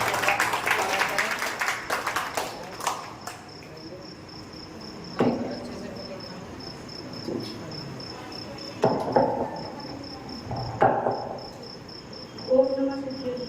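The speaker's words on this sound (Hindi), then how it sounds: "जोरदार तालियों के माध्यम से अक्षत जैन का स्वागत करें" Audience applause at a seminar at Shri Nandishwar Vidyapeeth, Khaniyadhana, greets a speaker to the stage: a dense burst of clapping for about three seconds, then fading into scattered claps, occasional voices and a steady high insect-like chirp.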